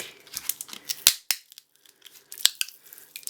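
Double-sided sticky tape is peeled back inside a Mac laptop battery pack, giving sharp crackling tears and crinkles in short bursts separated by near-silent pauses, close and fairly crisp.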